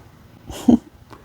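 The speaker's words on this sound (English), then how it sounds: "And that's my cat." A cat near a moss-look tombstone prop makes one brief, close sound in the middle of an otherwise quiet moment.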